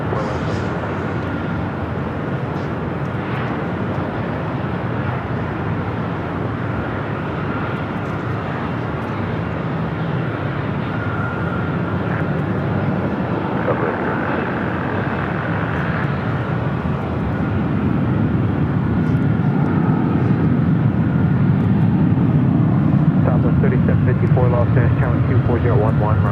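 An airliner's engines roar steadily on takeoff from runway 24 left at Los Angeles International Airport, heard from a distance, swelling louder toward the end as the jet accelerates.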